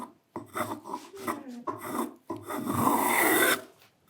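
A hand tool cuts a stopped chamfer on a wooden stool leg in a series of close rasping strokes, short at first, then one long sustained pass before stopping.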